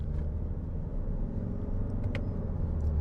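A 2025 Toyota RAV4 GR Sport hybrid drives under steady engine and road rumble, with the ECVT running through simulated gear shifts. The continuous low drone stays close and fairly loud from start to finish, and no one speaks.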